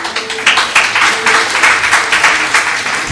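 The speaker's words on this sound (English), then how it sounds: "Let's welcome him with a warm round of applause." A warm round of applause from an audience at a district panchayat event welcoming a guest doctor, brisk, close clapping that keeps up evenly from start to finish.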